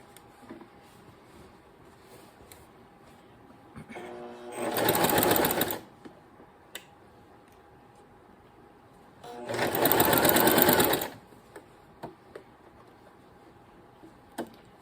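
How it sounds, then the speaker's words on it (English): A sewing machine runs a quarter-inch seam in two steady whirring bursts of a couple of seconds each, close and loud, separated by quiet handling of fabric, with no talking. "Make my 1/4 inch seam down this side."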